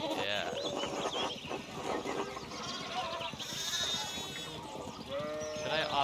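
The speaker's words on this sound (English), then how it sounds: "One of the fence rails fell and the sheep started hopping." Sheep bleat in the medieval village setting of the video game Pentiment, with several wavering cries rising over background game music and ambience at moderate volume.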